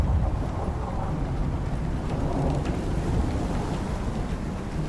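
Thunderstorm in the survival video game Icarus, with steady heavy rain and low rumbling thunder forming a dense, continuous roar and no voices over it.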